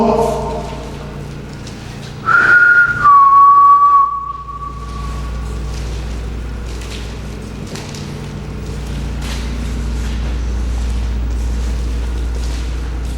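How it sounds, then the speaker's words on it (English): A single clear whistled note from a person, rising briefly and then held steady for a couple of seconds, over a low background hum, at Pennhurst. "Can you whistle?"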